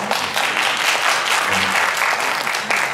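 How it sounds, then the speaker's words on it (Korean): A church congregation gives a loud, sustained round of applause during a Sunday worship service, dense clapping filling the room with no gaps. "행복하라고 박수 한번 크게 한번 쳐주시고"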